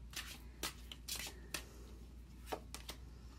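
Tarot cards shuffled and drawn in soft, close riffles and quick flicks, several short bursts over a faint steady hum, with no talking.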